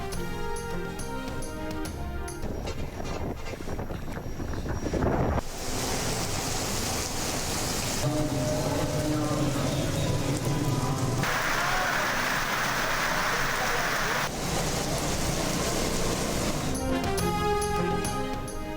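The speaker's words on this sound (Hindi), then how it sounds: "सिंध, पंजाब, खैबर पख्तूनख्वा और आज़ाद कश्मीर के मुख्तलिफ शहरों में हल्की और तेज़ बारिश का सिलसिला जारी।" Steady broadband rain hiss in news footage of light to heavy rainfall across cities in Sindh, Punjab, Khyber Pakhtunkhwa and Azad Kashmir, loud and continuous under music, shifting in texture between shots.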